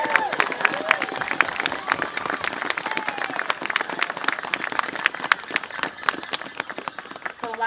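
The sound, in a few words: audience applause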